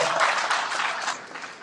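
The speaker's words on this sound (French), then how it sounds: "s'il faut applaudir encore une fois le représentant du Premier ministre" An audience at a Haitian ceremony applauds the Prime Minister's representative, a short dense burst of clapping that stays fairly steady and tapers slightly.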